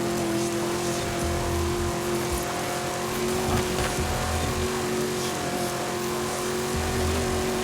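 A Myers Manx engine races in Forza Horizon 5, a steady buzzing drone held at high revs throughout, loud and unbroken with no talk over it.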